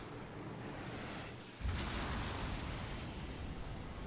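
An enemy object is destroyed in the Darksiders video game with a single sudden boom-like burst, followed by a low, fading rumble over quiet ambience.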